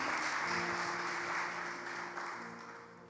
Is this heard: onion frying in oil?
no